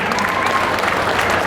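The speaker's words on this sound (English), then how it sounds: "I want everybody to applaud them and give" Audience applause for children after a mock presidential final debate at an ATA community event; dense, loud, sustained clapping from a crowd, even and continuous with no pauses.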